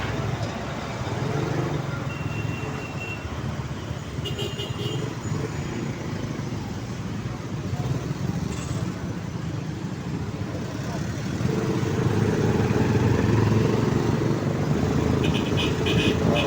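Road traffic in Davao City rumbles steadily, with engines of cars and larger vehicles idling and moving nearby, growing louder toward the end, while people talk quietly underneath.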